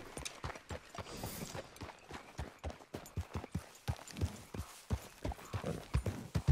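Irregular hoofbeats clip-clop steadily as a horse trots in the video game Red Dead Redemption 2, close and moderately loud over a soft rustling background.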